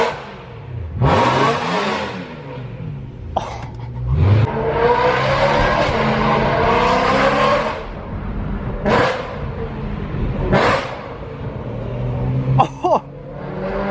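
A BMW E92 M3 with a Valvemaster full catback exhaust, loud and close, revs in long rising surges broken by short sharp blips, the engine roar filling most of the stretch with brief quieter gaps between.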